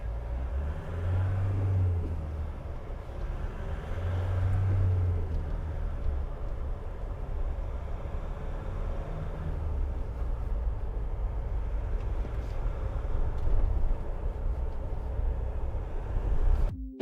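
2016 Nissan NT400 Cabstar 35 truck on a test drive, its engine giving a steady low rumble with road noise from inside the cab, a couple of deeper surges early on, continuous to the end.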